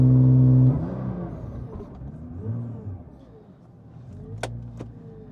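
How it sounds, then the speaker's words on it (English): A Nissan R35 GTR revving in launch mode on a Motec M150 in a car park: a loud held rev cuts off abruptly, then the engine burbles and surges at lower revs, with a couple of sharp pops near the end. "So launch mode 2, see how that goes."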